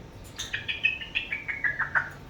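Sunni, a pet bird, gives a close series of about eight quick, bright chirps in a descending run, each note a little lower than the one before, with no talk over it.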